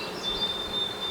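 Honeybees buzzing around a hive frame, a continuous close droning hum with a steady high whine above it, no voices.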